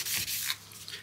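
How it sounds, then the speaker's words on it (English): A guitar fretboard being rubbed with 600 grit sandpaper during an archtop rebuild, giving a short, soft, close scratchy hiss of a stroke or two that fades out. "We'll take some 600 grit sandpaper and go over this."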